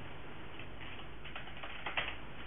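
Someone types a password on a computer keyboard during a Debian Linux install, a quick run of soft, close key taps with a slightly louder final press, over faint background hiss.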